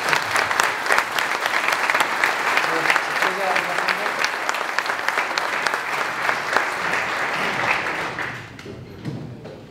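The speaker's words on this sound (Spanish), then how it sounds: "Yo creo que se merece un aplauso" Forum attendees at the Guadarrama Forum break into loud, sustained applause, a dense wash of many hands that keeps going for several seconds before quickly dying away near the end.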